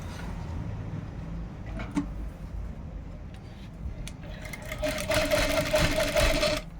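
A sewing machine stitches lining sleeves, starting with light taps and short runs, then running faster and louder in a steady whirring stretch near the end.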